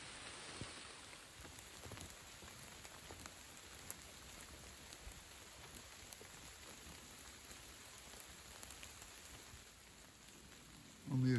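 Steady light rain falls in woodland, a quiet, even hiss of drops on leaves and ground with faint scattered taps throughout.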